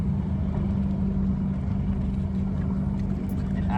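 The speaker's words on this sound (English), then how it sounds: "I gotta keep this engine idling because of the weight." Outboard engine of a fishing boat idling on a lake, a steady low droning rumble that runs continuously and close by, with no talking over it.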